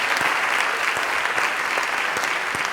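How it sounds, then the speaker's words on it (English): Audience applause after a judged contest at a digital storytelling talk in Barcelona, a steady dense clapping that fills the whole stretch at a fairly close, even level. "Round of applause."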